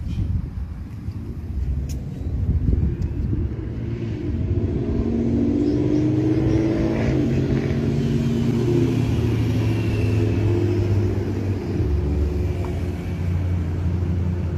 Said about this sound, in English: please watch out for traffic